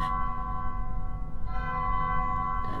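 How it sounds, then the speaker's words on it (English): Church bells ringing in the Garry's Mod video game, sustained metallic tones with a fresh strike midway and another near the end, clear and resonant with no talking. "The bells ring at every passing second."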